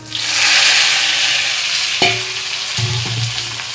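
Vegetables drop into hot oil seasoned with bay leaf and panch phoron, setting off a loud rushing sizzle that eases into a steady fry, with a few sharp utensil knocks and stirring scrapes near the end.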